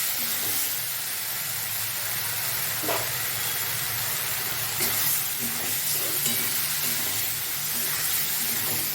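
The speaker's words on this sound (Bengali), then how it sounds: "দিয়ে আমি এবার মশলাটাকে ভাজবো" Spice paste with turmeric and salt frying in hot oil for a Bengali kalai dal, a dense continuous sizzle and hiss up close, with a few faint scrapes of a spatula and no talk.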